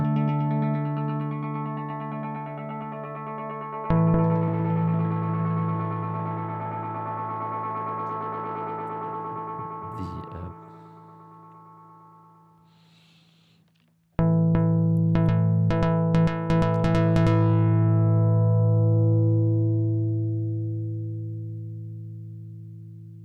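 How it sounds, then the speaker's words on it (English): Sustained electric guitar chords run through a Pulsar Echorec set for slapback delay, ringing with distortion and echo tails that fade out before a second strummed chord swells back in loud and close. "So when I move to echo, it's set to play some slapback delay."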